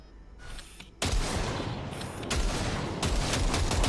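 A longer round of gunfire in Cyberpunk 2077 opens with a short burst, then a loud, sustained rapid volley that rattles on close and continuous to the end.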